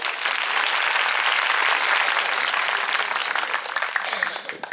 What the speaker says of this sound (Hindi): तो खुद के लिए ताली बजाइए।